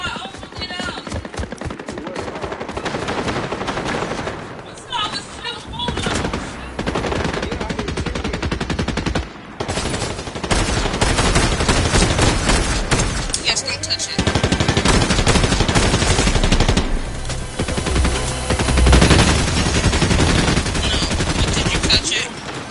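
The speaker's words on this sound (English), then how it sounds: "No, but they're shooting at me." Rapid automatic gunfire from a Fortnite match, long loud bursts of machine-gun fire with scattered single shots running almost nonstop, players' voices talking over it.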